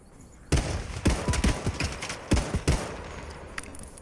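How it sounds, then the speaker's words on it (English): Bursts of gunfire in the video game Hawked, a run of sharp repeated shots with bassy thumps that starts abruptly and continues in rapid clusters, fairly close and loud. "I'm in the middle of shooting them and trying to throw grenades at them."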